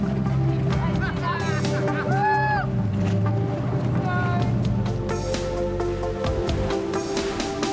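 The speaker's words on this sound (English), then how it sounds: "paddling a raincoat raft more than 3 miles through the bay's treacherous tides" A raincoat raft is paddled through choppy bay water, with steady splashing and a low rumbling wash. People talk and call out over it, and a few brief squeaky whistling tones come through.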